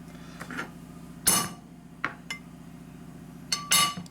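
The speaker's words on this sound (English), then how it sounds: "Here's my hammer again." A hammer taps on the cam cover of a Harley panhead engine being converted with knucklehead parts during a top-end rebuild. A handful of short metallic strikes, some grouped in quick pairs, ring out close over a steady low hum.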